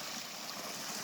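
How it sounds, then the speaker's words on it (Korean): Water pours steadily over stacked stones in a small man-made garden waterfall, a close, even, hissing rush heard alone. "물소리 좋죠."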